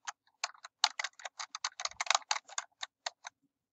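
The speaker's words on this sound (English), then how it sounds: "So let me just type in the word quantitative." A word is typed on a computer keyboard into a journal search box, a quick close burst of about two dozen crisp key clicks in an uneven rhythm over near silence, with no talk.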